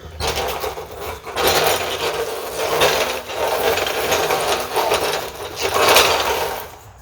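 A Harbor Freight off-road jack being moved across gravel, loud crunching and scraping in repeated surges with rattling metal, close by and without talk.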